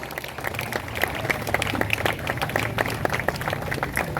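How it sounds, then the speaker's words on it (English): Church celebration audience applauding a student, dense clapping from many hands sustained at moderate loudness throughout, with faint crowd voices beneath. "Please give Raquel a big round of applause"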